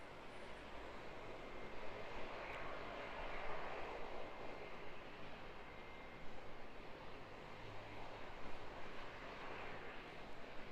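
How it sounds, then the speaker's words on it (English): A Dash 8 turboprop at Auckland Airport running its engines at full power, a constant broad roar with a dense low throb, fairly distant and unbroken, no talk. "Got a Dash 8 over here, full noise at the moment, eh?"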